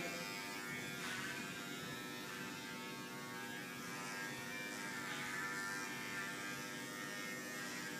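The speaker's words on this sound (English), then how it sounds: "again, this side, fully extend the clipper" An electric hair clipper tapering a neckline gives off a continuous, even buzz at low volume, steady throughout with no speech.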